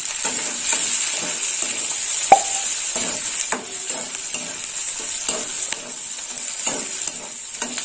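Tomatoes frying with red chili powder for a fish and okra dish sizzle steadily in a pan, with repeated stirring scrapes and a sharp clink of a utensil, and no talk.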